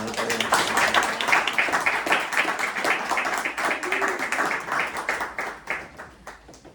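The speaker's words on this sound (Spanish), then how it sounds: "un aplaudiment pel Jorge i la Hanan" Applause from an audience at a cultural forum talk on literature and the Iraq invasion, steady dense clapping in a hall that gradually thins and fades toward the end.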